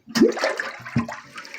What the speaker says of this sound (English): Let's go ahead and flush it and let that green junk come out of the tank now